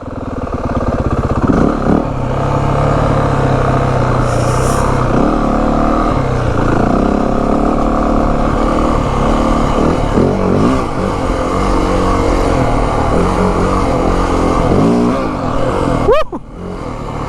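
Yamaha WR450F dirt bike pulling hard in first gear, a loud close engine roar that holds steady and drops off near the end, with a rattle of clatter and wind buffeting.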